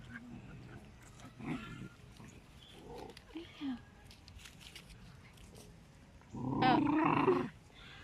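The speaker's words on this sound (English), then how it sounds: "My other dog was interrupting there." A dog growls and snarls in short rough bursts, with a louder, sustained growl near the end, as dogs play indoors.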